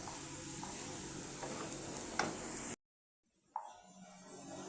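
Green beans sizzle steadily in a hot pan, with a spoon tossing them in soft scraping bursts; the sound drops out briefly to silence, then the close frying hiss and stirring resume.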